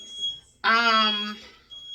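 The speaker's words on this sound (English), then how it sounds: "Guys, you hear that sound? It's a fire alarm." A fire alarm goes off indoors, giving one loud, piercing electronic tone that holds for about a second against a quiet room.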